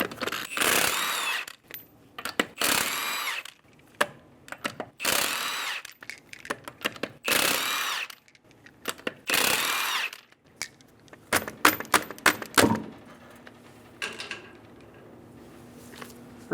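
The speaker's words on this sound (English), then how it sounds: "remove the 5 lug nuts." A power tool on a 21mm socket spins off the lug nuts of a 2011-2014 Hyundai Sonata front wheel in several short, loud bursts with pauses between them, followed by light clinks of metal parts.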